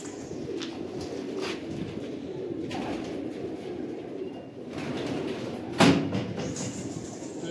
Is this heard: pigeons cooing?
yes